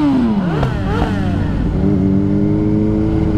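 A group of motorcycles rides together through town along Herforder Straße in Bielefeld. Loud engines rev and drone close by, with rising and falling pitch as bikes pass, and no talking.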